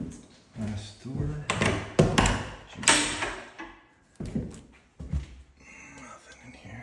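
A door in a property being toured is opened and shut, giving a few knocks, bumps and clatters close by while a person talks throughout.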